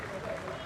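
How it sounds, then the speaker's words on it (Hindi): Applause in ISRO mission control during the Chandrayaan-3 soft landing, a brief dense wash of clapping with voices mixed in. "Lot of applause indicates that till now the performance has been nominal."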